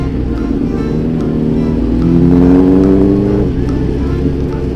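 A car engine accelerating hard in low gear, its drone rising in pitch then easing back, loud and close from inside the cabin.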